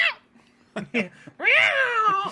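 A person imitates a cat, giving a drawn-out meow after a few short vocal sounds, close and fairly loud.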